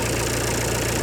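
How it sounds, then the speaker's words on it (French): A warm car engine idles at low speed during an EGR valve cleaning, a steady, close, continuous rumble with an even low pulsing throughout. "Faites tourner le moteur au ralenti."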